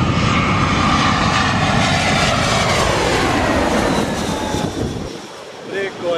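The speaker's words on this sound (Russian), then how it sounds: "один самолет сел, ну я думаю, что на посадку еще будет заходить не один" A fixed-wing airplane flies low over Mai Khao Beach in Thailand on its landing approach, its loud engine roar sweeping overhead and fading after about five seconds, with a voice briefly heard.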